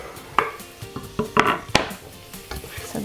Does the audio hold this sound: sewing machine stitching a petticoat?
no